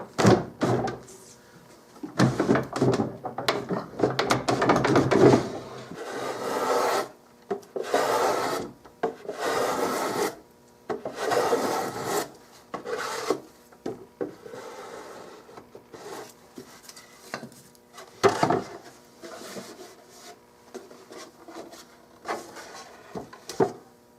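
Wood rubs and rasps in uneven bursts as an antique nightstand's wooden drawer is worked in and out, a close, gritty chattering scrape with brief pauses between pulls.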